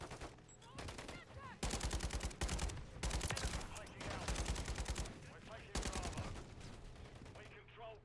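Rapid bursts of light machine gun fire in a Call of Duty match, several loud sustained volleys separated by short gaps, with other game sounds in between.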